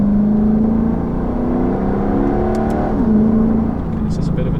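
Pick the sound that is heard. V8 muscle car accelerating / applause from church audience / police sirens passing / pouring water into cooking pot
V8 muscle car accelerating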